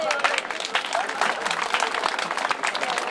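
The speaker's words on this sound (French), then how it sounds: "Et on l'applaudit." A crowd at the inauguration of Mulhouse's golden onion festival applauds the mayor, uneven clapping mixed with voices and crowd murmur close by.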